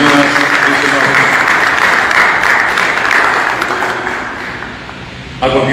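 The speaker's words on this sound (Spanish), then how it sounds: "Las fuertes palmas nuevamente, señoras y señores." Loud, sustained applause fills a hall during a solemn anniversary session, a dense roar of many hands that gradually thins and fades toward the end before a brief sharp sound.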